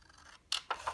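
Scissors snip through paper while a paper cube pattern is being cut out: three quick, close, crisp cuts in under a second, the first the loudest, heard alone.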